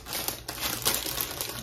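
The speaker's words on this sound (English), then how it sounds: "crinkly paper is always so loud" Crinkly paper rustles and crackles up close in short, uneven bursts, loud and continuous with no talking.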